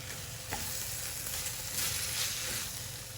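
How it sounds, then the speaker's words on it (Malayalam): Beef pepper roast being stirred through thick masala in a pan, giving a continuous close sizzle with occasional soft scraping stirs and no talking. "നന്നായിട്ടൊന്ന് മിക്സ് ചെയ്ത് കൊടുക്കാം."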